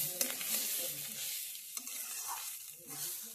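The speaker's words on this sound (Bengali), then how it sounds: "চাল ডাল মশলা সব কিছু ভালো করে কষানো হয়ে গেছে।" Rice, masoor lentils and spices stir-fried together in a pan for Bengali khichuri, giving a steady soft sizzle with scraping spatula strokes and a few sharper clinks, close and continuous with no talking.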